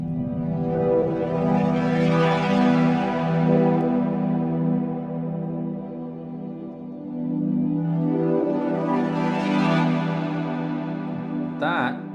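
A lush, sustained wavetable synthesizer chord with chorus shimmer and reverb swells and fades twice, ending in a brief bright flourish; no voices.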